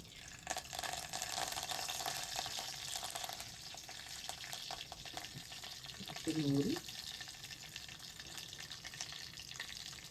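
Mustard seeds and curry leaves sizzle in hot oil, a continuous bright frying hiss with a short louder burst partway through and faint clatter, no talking.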